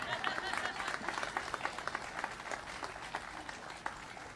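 A short burst of applause from a crowd at a Boston city event, many hands clapping briskly and steadily, with voices mixed in.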